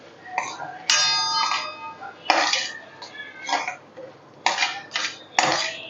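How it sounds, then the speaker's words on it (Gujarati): Masala spices for a drumstick (saragva) curry stirred in a steel pot: repeated bursts of bright metallic scraping and clinking from a spoon against the pot, close and fairly loud. "મસાલાને વ્યવસ્થિત રીતે હલાવી લઈશું"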